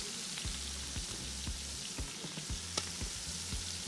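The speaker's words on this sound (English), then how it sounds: "Fry it from the one side. Wait until it becomes brown from the bottom." Food sizzles steadily in a pan as a chef cooks it undisturbed on one side until browned, with soft crackles and a few sharper pops rising over the constant hiss, nearby and alone.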